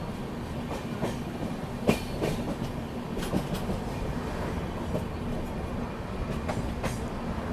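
Sewagram Superfast Express rolling into Dadar station on its first halt, a steady rumble of coaches with scattered wheel clicks and brief squeals, heard close and continuous with no talk.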